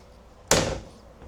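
A cabinet door in a 2026 Keystone Bullet Classic 18RBC travel trailer shuts with a single sharp, close slam that quickly fades into a quiet room.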